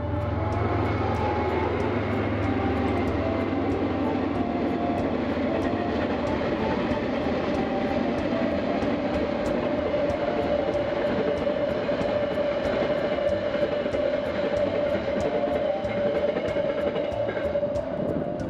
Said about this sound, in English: here is a freight train pulled by 3 locomotives